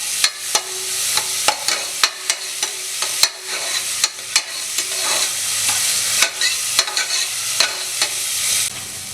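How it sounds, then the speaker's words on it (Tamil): Ginger garlic paste and shallots sautéing in a pan for country chicken soup, a steady close sizzle broken by repeated scraping stirs at an uneven rhythm, with no voices. "இப்போ இந்த இஞ்சி பூண்டோட பச்சை வாசனை போகிற அளவுக்கு இதை வதக்கிக்கலாம்."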